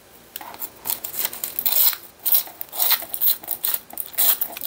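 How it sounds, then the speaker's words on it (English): Thin tracing paper torn into strips by hand, a run of quick crisp ripping bursts that start and stop, close and fairly quiet with no talking. "I'm just going to tear some strips."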